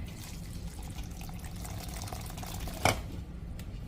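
Liquid is poured in stages from a cooled pot into a pan for cornbread dressing, making a steady, soft close-up pouring hiss with one brief clunk near the end.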